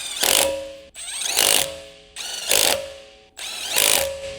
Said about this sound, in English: Use a 19 mm deep socket with a torque wrench. Tighten the rear wheel lug nuts.